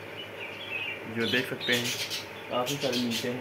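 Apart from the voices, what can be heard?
budgerigars chirping and squawking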